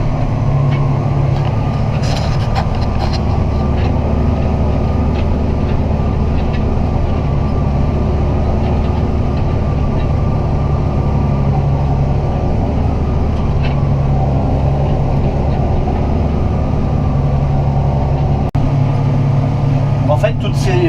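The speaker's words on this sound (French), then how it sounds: "Et donc mon tracteur est accéléré à 1400 tours." A tractor engine held at 1400 rpm while stubble cultivating after harvest: a steady, loud low drone with mechanical rattle running throughout, unchanging in level.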